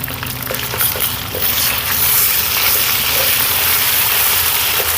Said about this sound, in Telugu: ఈ అల్లం వెల్లుల్లి పేస్ట్ని పచ్చివాసన పోయేలాగా ఒక నిమిషం పాటు ఫ్రై చేసుకున్నాం